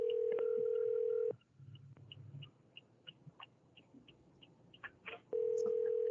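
Telephone call audio with a steady dial tone at the start and again at the end, separated by a rapid series of short touch-tone dialing beeps and a brief ring-like burst, heard alone without talking.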